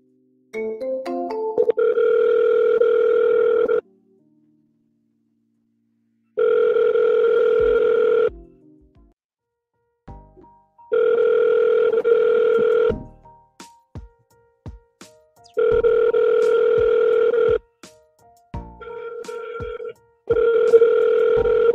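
A telephone calls a Century 21 realty office: a few quick dialing clicks, then repeated ringback tone bursts, each about two seconds, separated by short silent gaps and small clicks.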